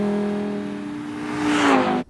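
A Lamborghini Huracan engine revving at the Ascari race circuit, a loud steady tone that swells and climbs in pitch, then cuts off abruptly.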